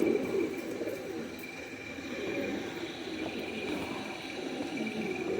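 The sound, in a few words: Deobandi pigeons cooing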